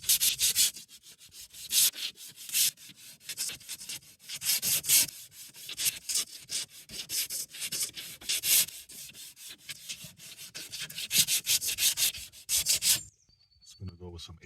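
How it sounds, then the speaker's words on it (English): Sandpaper of 80 grit scrubs the body of a BMW E36 Touring outdoors, with rapid rhythmic back-and-forth strokes that are loud and close, continuing for most of the clip before stopping abruptly. "Start sanding."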